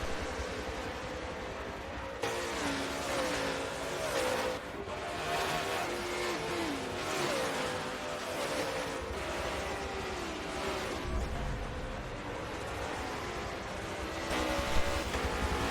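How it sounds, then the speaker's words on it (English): GT race cars such as a Lamborghini and a Jaguar in a video game race at Sebring, engines droning and rising in pitch as they run single file through the final corner, a steady layered roar throughout. "You got these cars lined up, single file, as they come around the final corner."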